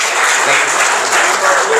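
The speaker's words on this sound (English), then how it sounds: "big round of applause" Dense, steady applause from a crowd at a valedictory ceremony, sustained evenly for the whole stretch with no voices standing out.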